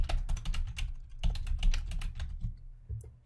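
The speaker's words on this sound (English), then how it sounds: "Or you can just type in beginning of it" Fast typing on a computer keyboard, a close, busy patter of key clicks with short irregular pauses, no voices.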